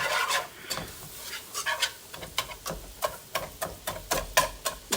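A utensil scrapes rhythmically across a pan as flour cooks down for gravy, a steady series of close, gritty strokes about twice a second.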